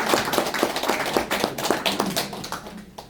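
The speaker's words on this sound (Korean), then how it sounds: "큰 박수로 부탁드리겠습니다." An audience at a New Year business talk claps to welcome the featured speaker, a steady dense patter of hand claps with sharp individual slaps, fairly close and even, no talking over it.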